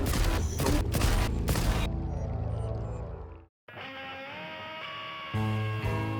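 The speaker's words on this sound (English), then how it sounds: "15 headshots from a gauss rifle to kill 1 pseudo-giant." Gauss rifle shots are fired at a pseudo-giant in Stalker 2, a loud rapid series of sharp bursts that later gives way to quieter tonal game sounds with a brief silent gap.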